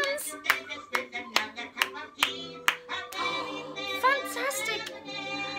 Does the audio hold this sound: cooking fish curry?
no